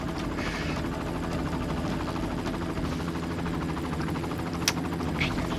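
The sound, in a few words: helicopter in a video game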